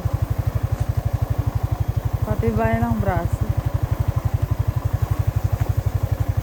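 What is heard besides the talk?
motorcycle engine running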